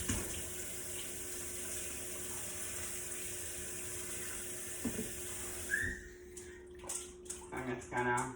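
Raw chicken rinsed under a cool running tap, a steady broadband water rush filling most of the clip, ending in a few splashes and knocks as the flow stops.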